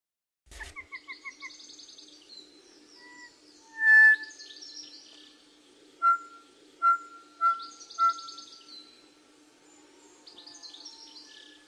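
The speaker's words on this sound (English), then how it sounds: "Their songs overall are some of the slowest of any songbird species and are very beautiful in the organ-like sounds they produce." A South Island kōkako sings a slow, organ-like song of clear, pure whistled notes and short trills, spaced by pauses, close and distinct against quiet surroundings.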